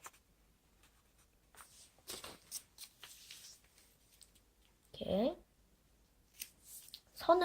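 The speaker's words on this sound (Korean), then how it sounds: "가위를 가져왔습니다. 이 종이를 4분의 1로 만드는 방법은 아시겠죠?" Scissors snipping through a sheet of paper to cut it into quarters, a few short crisp cuts and paper rustles in a quiet room, briefly under a man's speech.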